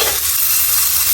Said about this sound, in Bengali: এখন হচ্ছে চিকেনটা ভাজা বাকি আছে